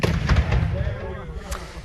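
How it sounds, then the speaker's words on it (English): Loud explosions at a golden age of piracy weekend at the Royal Naval College in Greenwich: several sharp booming thumps in quick succession, then a fainter single blast, heard outdoors at a distance. "you may have heard some loud explosions like this."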